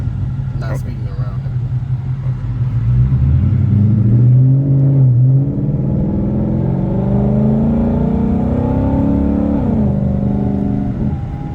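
A Ford Mustang GT 5.0 with louder aftermarket pipes revs its exhaust close by, a deep rumble swelling and settling through the clip, with people talking over it.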